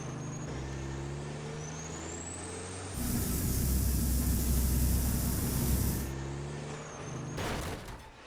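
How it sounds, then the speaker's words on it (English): Vehicle thrusters on a custom car in Garry's Mod sandbox fire as a loud, steady rushing hiss lasting about three seconds over a droning engine, then cut out, with a brief second burst near the end. "My thrusters are only useful on the long straights, such as this."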